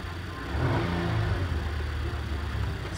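An Infiniti QX60 engine holds a steady rev near 2,000 RPM after a spark plug change, a low continuous rumble with a slight swell partway through and no voices.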